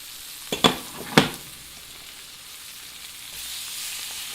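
Tilapia fish fillets, thin and fast-cooking, laid into a hot pan with two sharp crackling bursts, then a steady soft sizzle that swells slightly toward the end, with no voices.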